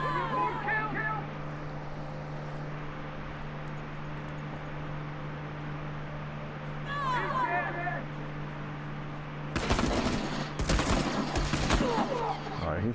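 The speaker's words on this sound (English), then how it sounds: "he's shooting at the legs just like I do" Short bursts of video game gunfire aimed at an enemy's legs, a loud cluster of rapid cracks arriving near the end after a long stretch of quiet hum, with talk earlier.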